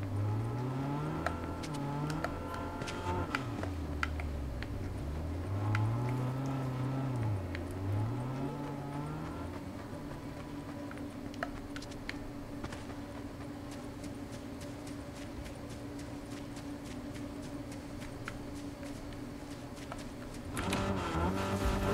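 Car driving in the video game Fortnite Zero Build: a steady engine drone with rising and falling revs, a roaring acceleration surge near the start and again at the end, no talk.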